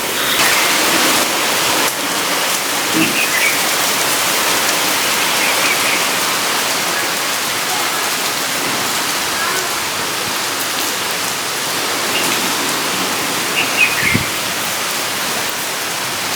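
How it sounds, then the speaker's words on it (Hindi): Steady heavy rain pours down, a dense continuous hiss with occasional louder drops and splashes nearby. "मैंने बना ली है रील, और बहुत तेज़ बारिश आ गई है"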